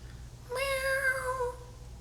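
A cat lets out a single drawn-out meow, clear and close, rising then trailing off, over a quiet background.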